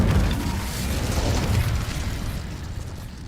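Incendio fire spell cast in Hogwarts Legacy: a loud whooshing, roaring burst of flame that swells at once and then slowly thins and fades.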